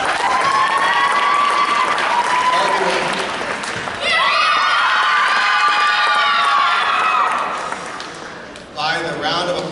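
Applause and cheering fill a school gym crowd during an eighth-grade volleyball team recognition. The loud, sustained clapping mixes with shouts and voices, dips briefly near the end, then swells again.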